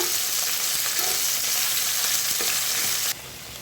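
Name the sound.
stirring cabbage leaves in a pan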